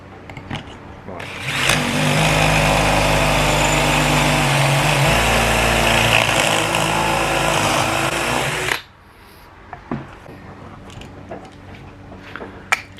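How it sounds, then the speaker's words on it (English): A power drill bores a pocket hole through a board held in a Kreg jig while building camper furniture, one loud, sustained whine lasting about seven seconds before cutting off abruptly, followed by quiet handling clicks. "we need to drill the second hole"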